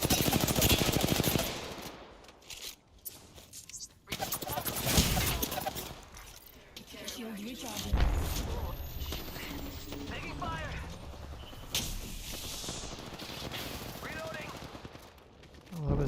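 Gunfire in the battle royale video game Apex Legends comes as rapid automatic bursts and single shots mixed with mechanical clicks and reload sounds, while a player talks over the action.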